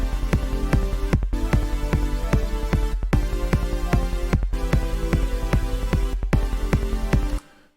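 A supersaw synth patch built in Ableton Operator, run through a synced flanger and delay, pulses in a steady rhythmic pattern of bright stabs grouped in repeating phrases with brief gaps before it cuts off abruptly.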